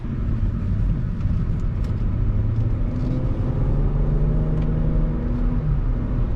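A 2012 Volvo S60 T6 on the move, with steady low engine rumble and road noise heard from inside the cabin, continuous and even throughout.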